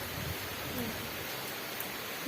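Heavy rain pours down in a steady, even hiss of dense falling drops, with no breaks and no voices over it.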